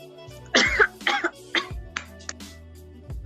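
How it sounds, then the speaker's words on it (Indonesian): A person indoors coughs several times in short bursts, fairly close, with brief gaps between the coughs and no talk. "Batuk."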